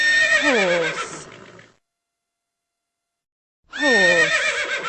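A horse whinnies loudly and close, in a descending shaky call, then falls silent for about two seconds before a second strong whinny begins.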